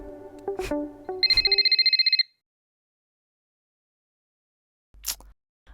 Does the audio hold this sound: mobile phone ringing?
yes